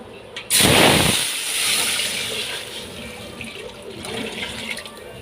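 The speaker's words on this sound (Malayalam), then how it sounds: "അപ്പം നമുക്കിതാ വെള്ളം ഒഴിച്ചു കൊടുക്കാം കേട്ടോ." Water poured into a pot of biryani, a loud close gush of splashing that starts abruptly and then settles into a softer, continuing bubbling hiss with no talking.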